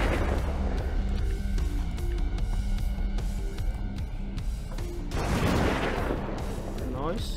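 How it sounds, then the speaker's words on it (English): Gunfire in the video game Dead Age 2, a string of sharp, evenly spaced shots over a constant musical backing, with a heavier crash near the end. "Shoot her up."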